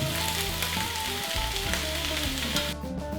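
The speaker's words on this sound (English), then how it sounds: "just going to cook off the bok choy and the broccolini." Bok choy and broccolini sizzle in a hot wok for a pork stir fry, a dense, even frying hiss with light crackles, close and steady, fading slightly at the end.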